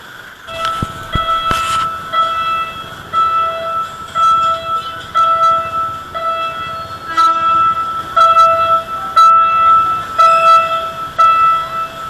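Train passing by during a solo motorcycle ride from Manila to Pangasinan, a loud rolling rumble with sustained horn-like tones and clanks swelling over about twelve seconds, with no talk.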